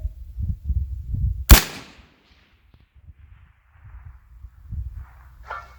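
A Heckler & Koch SL8 rifle fires a single loud, sharp shot at a shooting range. A faint distant impact follows, with quiet background rustle before and after.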